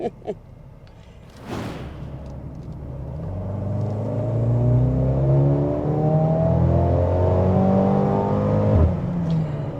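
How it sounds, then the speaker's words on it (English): A Mercedes-AMG GLB 35 engine revs up after a brief click, rev-matching through several quick paddle-shift downshifts, rising and falling in pitch, loud and close with a steady rumble underneath. "you can downshift and really hear the engine rev matching"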